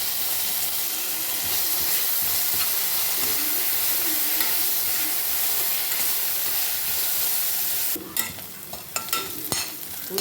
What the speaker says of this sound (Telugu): ఇప్పుడు ఇందులో మనము శుభ్రంగా కడిగి కోసి పెట్టుకున్న కరివేపాకు, కొత్తిమీర వేయాలి.